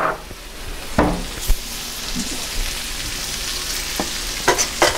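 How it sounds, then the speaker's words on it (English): Steady crackling sizzle of sisig on a hot sizzling plate, with a few sharp clinks and taps over the hiss. "now we had the sizzling plate, in which is getting hot"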